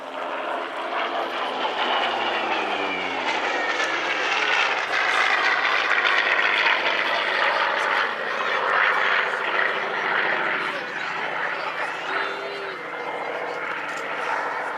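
A Hawker Sea Fury propeller fighter drones past at an Île-de-France air show, its engine a loud sustained roar that rises and shifts in pitch as it passes, while someone talks over it.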